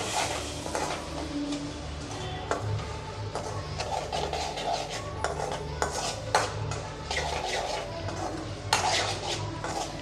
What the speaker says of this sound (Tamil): இப்போ இதை நல்லா கலந்து விட்றலாம்